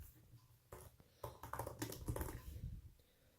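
Keys clatter on a Dell XPS 15 2-in-1 laptop keyboard, tactile and clicky, in a burst of quick close typing that starts sparse and then runs into a dense flurry before trailing off.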